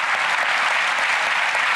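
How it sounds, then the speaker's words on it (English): An audience at the TV magic show Penn & Teller: Fool Us breaks into a short, loud burst of applause for a performer. "A round of applause for Mr. Ross."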